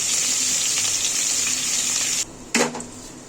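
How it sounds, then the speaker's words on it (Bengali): Salted slices of pointed gourd (potol) crackle and hiss in hot oil, a bright steady sizzle up close that suddenly drops out, then flares briefly again with a burst of spatter. "এই আমি ছেড়ে দিলাম, একটু পটলটা ভাজা হোক"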